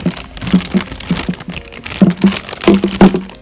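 Crinkly plastic packaging of a Banpresto Dragon Ball Z Trunks figure being handled and pulled open, with repeated close crackles and rustles in short bursts.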